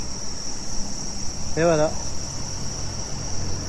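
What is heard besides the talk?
cicadas and crickets chirping near a waterfall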